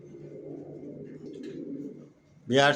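Pigeons coo in low, soft, throaty murmurs that run for about two seconds, followed by a brief louder burst at the end that could be a voice.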